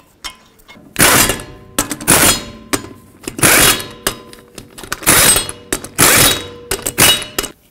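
Wheel lug nuts on a 2006-2011 Chevrolet HHR being torqued to 100 foot-pounds, a series of loud rapid ratcheting bursts and clicks in close quarters, about six separate runs with brief pauses between.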